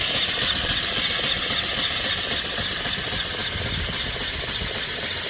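Vertical steam engine with a flyball governor runs steadily close by, a loud, even mechanical chug and hiss with fast rhythmic knocking that continues without pause, no talking.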